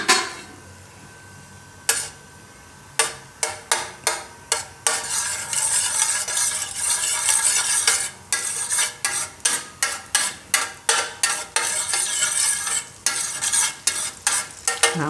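Butter melting and being stirred in a pan for a vegetable lasagna sauce: loud, close sizzling under a steady run of sharp spoon-on-pan scrapes and clinks, with no talking.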